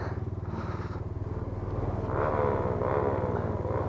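A friend's 110cc motorcycle engine runs loudly nearby, a steady rough drone with a rapid pulsing beat that swells slightly louder midway and holds, with no talking.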